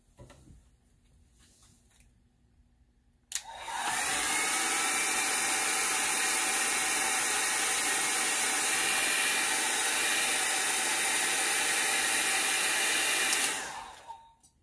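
A hair dryer switches on and blows steadily for about ten seconds at close range to dry wet watercolour paint on a painting card, with a loud constant whir before it cuts off.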